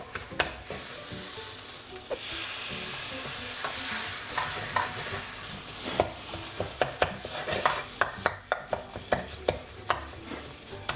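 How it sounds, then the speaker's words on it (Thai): Wild boar curry is stir-fried in a pan while coconut milk is added, giving a soft continuous sizzle broken by sharp scraping spatula clicks that quicken toward the end, close and fairly quiet, with no voices. "จะค่อยๆ เติมกะทิลงไปนะครับ แล้วก็ผัดให้เข้ากันนะครับ"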